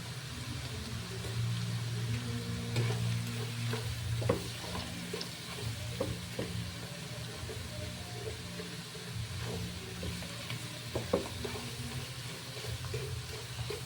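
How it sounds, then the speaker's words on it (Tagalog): Chicken bouillon cubes stirred into a pan for a potato chicken mushroom dish, giving a steady sizzle with scattered scraping and clinking from the utensil against the pan, close and continuous throughout. "Ilalagay ko na yung chicken cubes."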